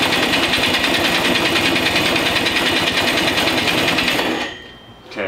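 A two-stroke racing go-kart engine buzzes loudly and rapidly at close range for about four seconds, then cuts out, leaving a brief lull.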